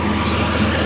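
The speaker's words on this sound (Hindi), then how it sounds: "ट्रैक्टर चला रहे हैं। और ये देखिए खेत की जुताई हो रही है" A tractor tilling a paddy field drones steadily with a loud, even engine rumble that never breaks, heard close and on its own with no talk.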